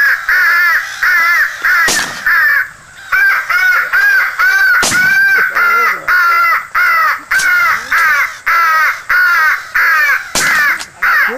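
Repeated loud crow caws in quick series during a crow hunt, with sharp gunshot cracks cutting in near 2, 5 and 11 seconds, all close and prominent.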